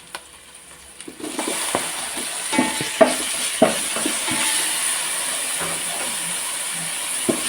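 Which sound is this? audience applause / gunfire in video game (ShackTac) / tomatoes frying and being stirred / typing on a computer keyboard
tomatoes frying and being stirred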